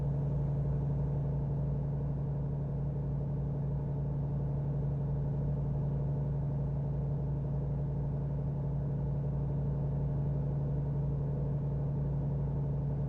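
A truck cruises steadily at speed in American Truck Simulator, a constant low engine drone and road rumble with a steady hum, unbroken and alone throughout.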